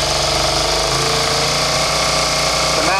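A Suzuki SV650 motorcycle engine runs loud and close with a steady, throbbing drone that lifts slightly in pitch toward the end as it revs.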